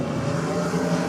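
A Pontiac Firebird and a Holden Torana with a Chevy 400 launch side by side at a drag strip, a loud steady engine roar filling the brief moment.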